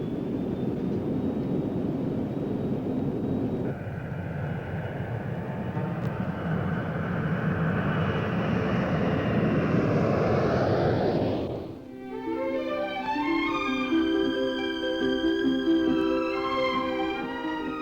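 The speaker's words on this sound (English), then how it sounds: "The plane, the Boeing 757." A Boeing 757 jet airliner flying during its early 1980s flight test program, heard as a loud, sustained jet roar that swells and then cuts off abruptly into steady tonal sounds.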